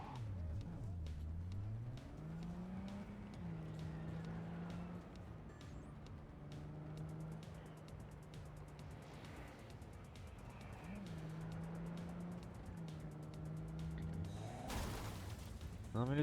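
Sports cars in the video game Cyberpunk 2077 rush past with whining, rising and falling engine tones, sweeping by one after another in a loud, continuous stream.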